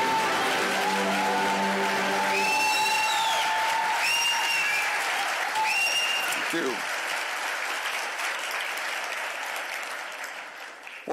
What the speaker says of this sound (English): Please give a warm round of applause for General Wesley Clark.